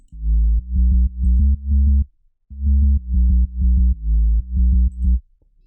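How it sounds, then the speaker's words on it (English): A synthesized sub bass for a trance track plays a pattern of deep, smooth, sine-like notes in short repeating phrases. There is a brief gap between the two phrases, and the tone is loud and clean with nothing else over it. "And it's a sub bass for the track,"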